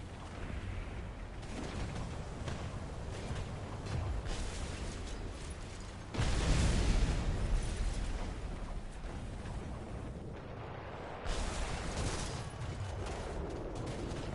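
Rocket explosions in a video game: a dense, roaring rumble of blasts and fire, with two louder booming surges partway through, steady and close with no talking.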